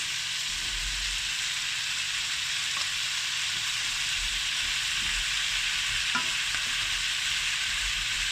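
Tomatoes frying in a pan for a South Indian paneer butter masala base, a steady close sizzle and hiss with faint occasional stirring clicks, no voices.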